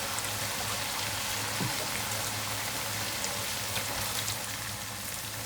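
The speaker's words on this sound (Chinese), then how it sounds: "让它水去沸腾，" Water with shrimp boiling in a pan over high heat, a dense, even bubbling hiss with faint pops running steadily throughout, close and moderately loud.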